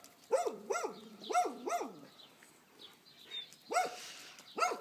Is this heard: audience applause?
no